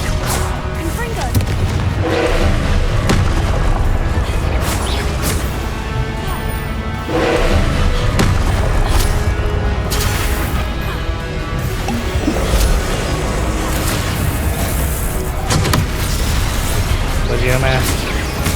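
Confringo explosion spells burst repeatedly in Hogwarts Legacy during a trial, with booming blasts and crashes piled into a dense, loud stream of game noise while a voice talks over it.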